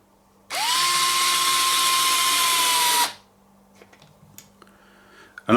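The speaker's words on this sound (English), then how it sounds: "I'm just going to go in until the actual screwdriver stops" A Fanttik NEX L1 Pro 3.6V cordless screwdriver drives a screw into wood at its lowest torque setting, a loud steady high whine for about two and a half seconds that stops abruptly, followed by faint clicks and handling noises.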